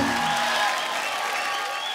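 Large studio audience applauding a singer after a performance, a loud, dense, continuous wash of clapping with some crowd noise, steady throughout.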